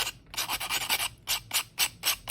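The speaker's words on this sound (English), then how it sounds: "So I just give it a little bit of sanding." Fine sandpaper rubbing over a painted wooden ornament in quick back-and-forth strokes, about a dozen close, raspy passes with brief gaps, alone and fairly quiet.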